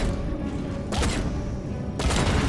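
Rapid bursts of gunfire in StarCraft II during a Nova Covert Ops mission, two loud broadband volleys about a second apart over a steady, busy battle background.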